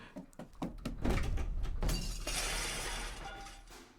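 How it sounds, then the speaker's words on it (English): A door barged down and smashed in the Aviary Attorney video game: a few knocking thuds, then a loud splintering crash with shattering debris that rings out and fades, close and alone. "I'm barging the door down"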